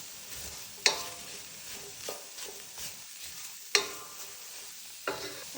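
Onion frying in a pan with a little oil, a soft continuous sizzle punctuated by a few sharp scraping clacks of a utensil stirring against the pan, with no talking.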